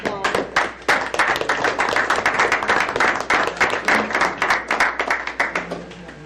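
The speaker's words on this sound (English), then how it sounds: "we should give Eric a round of applause" A small audience at a city meeting in Tracy, Minnesota claps for a speaker, with individual hand claps distinct in a quick, uneven patter that tapers off after several seconds.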